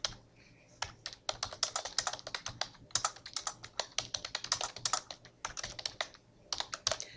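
Rapid keystrokes clatter on a computer keyboard as a quiz question is typed, bursts of close, crisp clicks with short pauses between words, heard alone without speech.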